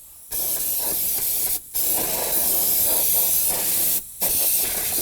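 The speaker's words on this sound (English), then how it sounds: "We're going to spray it down with some spray solvent" Loud, close bursts of solvent from a spray can hiss in three long blasts separated by brief pauses, with no talking, while cleaning around a Volvo XC90 fuel pump module.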